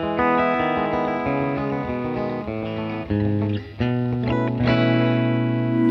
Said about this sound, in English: nice split coil sound, which is nice when you have all these humbuckers.